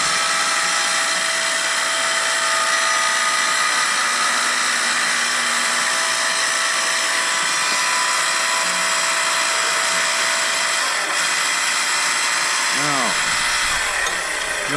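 A hydraulic log splitter runs loud and steady for the whole stretch, a dense mechanical whine with a falling sweep near the end as the ram reaches its full travel.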